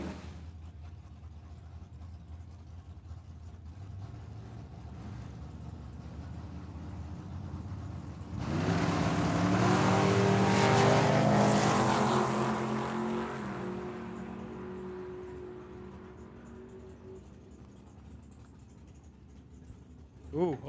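A dragster or roadster drag racing at Tucson Dragway, with a loud engine roar that rises suddenly, holds for several seconds and then fades away, over continuous track announcer commentary.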